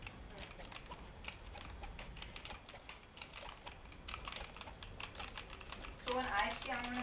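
Rapid typing on a computer keyboard used for gaming, a dense run of quiet crisp key clicks at an uneven rhythm, close to the microphone, with a faint voice-like burst near the end.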